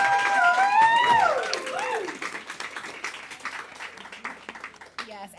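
Audience applause breaks out after a speaker's talk, with a voice briefly heard at the start before steady, close clapping from a modest crowd carries on to the end.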